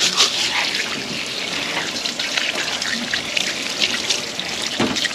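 Water runs steadily from a hose while an armadillo is being cleaned outdoors in Trinidad, a close, continuous splashing rush with small shifts in flow.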